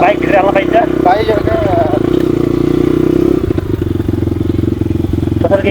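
A motorcycle engine drones loud and close throughout a ride, holding a steady throbbing note while a person talks over it.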